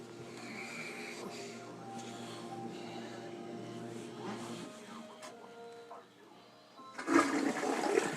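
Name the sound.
toilet flushing in flooded camp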